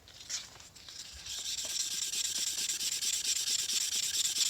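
A Dodge Magnum 360 crankshaft's ATI damper hub being honed with 500-grit abrasive gives a steady, close, continuous rasping rub with fine rhythmic strokes, building after a brief start and running alone.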